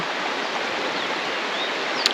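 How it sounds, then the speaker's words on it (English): A mountain stream flows steadily beside the Great Divide Mountain Bike Route between Eureka and Helena, giving a close, even rushing hiss for a couple of seconds with no talk. "Hear that water flowing?"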